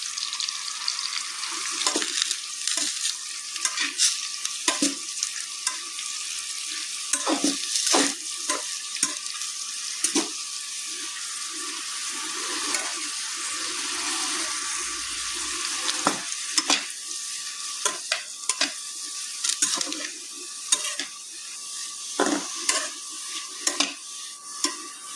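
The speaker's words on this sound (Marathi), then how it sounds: "तेल तापत येयला आतां घालुया. मशरूम आणि थोडंसं घालूया." Mushrooms fry in hot oil in a home kitchen, a continuous high sizzle under frequent sharp scrapes and clicks of a spoon stirring the pan, close and steady.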